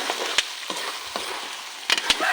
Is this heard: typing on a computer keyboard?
no